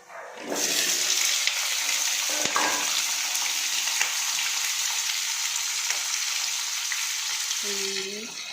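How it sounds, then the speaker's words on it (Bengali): Washed potatoes frying in hot oil after a cumin tempering, a steady loud sizzle running almost the whole time with faint clinks and stirring, a brief utensil scrape near the end. "আর এই ধুয়ে রাখা আলুগুলো এগুলো ভেজে ফেলবো।"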